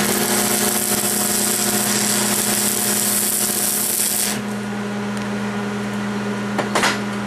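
Tack welding the bottom of a small homemade mini furnace, a loud, steady crackling hiss of the welding arc under a constant hum that cuts off partway through, followed by a quieter buzz and a few brief clicks.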